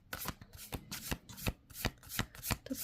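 Tarot cards are shuffled by hand in quick, crisp riffling bursts, about eight sharp slaps in under three seconds, close and clear with no talking.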